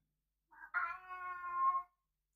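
A female cat meows indoors, a short chirp followed by a longer, drawn-out tonal meow, close and clear against silence, with a tiny click at the end.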